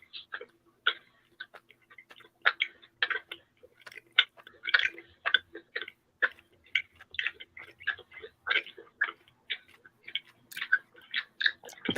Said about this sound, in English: I too like the sound of my chewing.